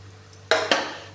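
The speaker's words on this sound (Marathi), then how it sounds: "ह्याला असं जरा हलवून घ्यायचं" Roasted shevla being stirred into boiling water in a cooking pot for upma, giving two distinct scraping clinks of a spoon against the pot over a low steady hum.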